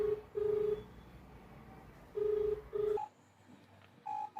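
Keypad tones sound as a phone number is dialed for a prank call: short, evenly pitched beeps in small groups separated by brief pauses, fairly faint over a low background hiss.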